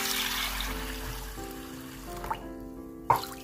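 Clean water pours into a large bowl of red beans, a close, steady trickle running for a few seconds with small splashes near the end.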